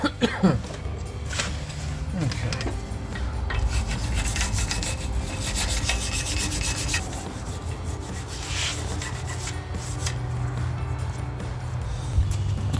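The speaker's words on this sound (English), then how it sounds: "Next thing we're going to do, take the rotor off." Scraping and rubbing of metal parts as a worn brake rotor is worked off the hub of a 2010-2015 Camaro SS, a steady gritty rasp close by with occasional sharper knocks.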